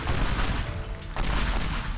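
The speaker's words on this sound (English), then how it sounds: "But I do have pipe bomb now" Pipe bomb blasting stone in the Teardown destruction game, a dense burst of loud crackling explosions and rumbling debris that barely dips, then surges again partway through.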